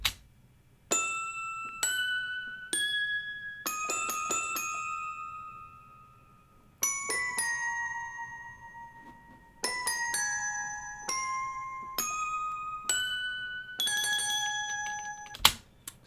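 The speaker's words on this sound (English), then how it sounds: "The bell is from Keyscape. It's one of the toy pianos." Bright, glassy toy piano bells from the Keyscape Toy Piano Glock Dry Bells preset play a slow melodic line. Each struck note rings clearly and decays in the dry setting, with some notes grouped in short runs and no voice over them.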